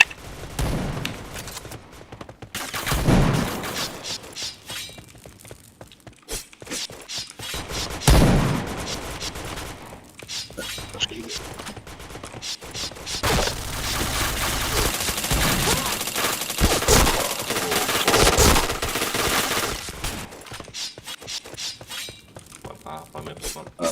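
Gunfire from a shooting video game played in a clan tournament practice session, with bursts of rapid automatic shots and heavy volleys in waves, loud and close, over stretches of quieter mechanical game noise.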